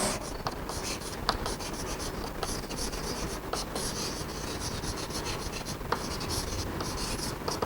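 Pen or chalk scratches out a maths equation, a quiet steady rubbing with short repeated strokes and taps as the symbols are written.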